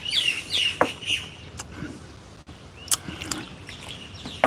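Outdoor birds chirping in short bright bursts, several quick tweets early and scattered calls later, fairly near but soft against a quiet background.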